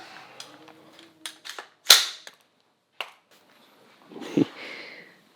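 A .22 long rifle fired outdoors: a sharp, loud crack stands out, with fainter shots or clicks and a muffled thud later among quiet gaps.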